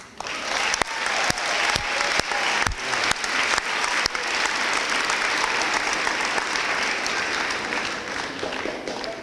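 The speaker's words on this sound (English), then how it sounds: "what about joining me in extending a round of applause for our teachers?" An audience at an eighth grade graduation celebration gives teachers a round of applause, steady dense clapping with a few sharp individual claps, sustained for about nine seconds.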